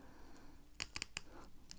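Scissors cutting sequin fabric, a few sharp close snips and crunching clicks as the blades bite through the sequins, faint and alone against a quiet room.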